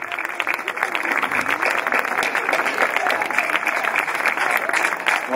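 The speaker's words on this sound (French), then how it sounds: "Je crois que ça mérite beaucoup plus d'applaudissements que ça" Audience applause at an outdoor Assumption Day brass band concert in front of a chapel in Ghlin, a dense, steady clapping from a crowd that carries on evenly for the whole stretch.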